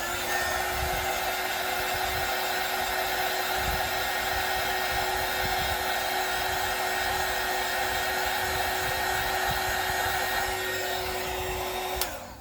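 A hair dryer blows on a freshly painted small watercolor holiday card, a steady close whooshing whine that runs unbroken for about twelve seconds before cutting off at the end.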